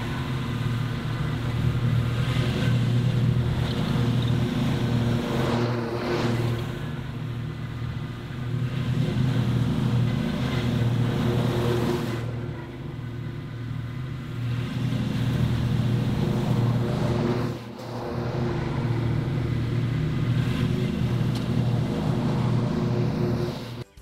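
A walk-behind mower's engine runs steadily and loudly, with a constant droning hum that dips briefly a few times and then comes back to full strength, with no talking over it.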